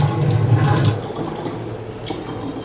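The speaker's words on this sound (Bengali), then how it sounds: "আমি অ্যাকোয়াগার্ড একটু জল তুলে নিই" Water pours steadily from an Aquaguard purifier into a container, a continuous close gushing stream that softens slightly after the first second.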